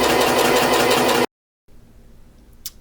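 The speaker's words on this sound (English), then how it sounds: "now we just want to sew another one a 1/4 inch from that original basting stitch" Sewing machine running a basting seam on fabric, a steady fast continuous whir for just over a second, then silence and a faint quiet room.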